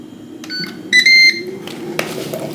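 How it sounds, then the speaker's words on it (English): An air fryer's control panel gives a quick series of short electronic beeps, including one longer tone, as it is set to preheat to 400 degrees; close and clear, with no talking. "I'm also going to preheat my air fryer to be at 400 degrees."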